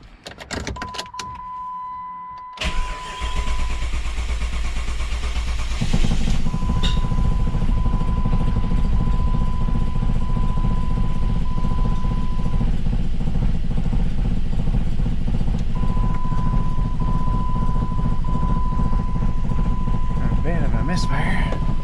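A car with a P0320 fault code cranks briefly after a sensor repair, then catches and settles into a steady, loud idle that runs continuously, with an intermittent electronic beeping chime sounding over it.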